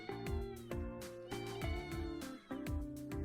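A cat in a video game meows repeatedly, a string of clear, close, tonal mews in quick succession with no talk over them.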